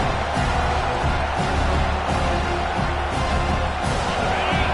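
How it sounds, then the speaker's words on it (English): Football stadium crowd noise as the defense holds near the goal line in the red zone, a dense steady roar of many voices with rhythmic swells, loud and continuous without a break. "the crowd coming to life here, trying to help this defense down in the red zone"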